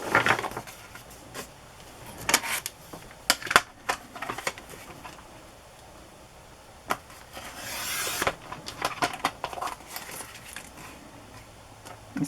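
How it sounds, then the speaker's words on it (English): Scissors cut through stamped scrapbooking paper in a quick run of snips and crisp rustles, close and clear, with short pauses between cuts and no talking. "Let's cut it and see how it looks."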